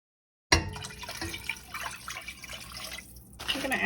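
Water pours into a soup pot holding roasted chicken bones and jelly bits from the roasting pan, a sudden gushing splash that runs on as a steady burbling stream for several seconds.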